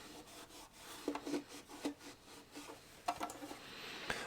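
A cloth rubs a violin in small circles to clean off grime, making soft, close scratchy strokes in irregular bursts, quiet and without talk.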